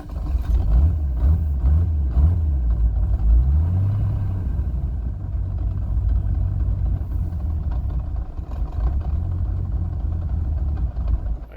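A cold car engine fitted with a FuelTech FT450 engine management unit idles steadily and loudly, a continuous low rumble with a slight rise as the revs are brought up, and no talk over it.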